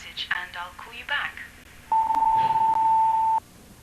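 An answering machine gives one long steady beep of about a second and a half, following a brief recorded voice greeting.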